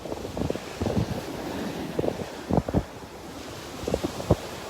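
Rough surf breaks on a Gulf beach in North Naples, Florida, under a yellow warning flag, with steady wind noise buffeting the microphone and several low thumping wave surges rising and falling throughout.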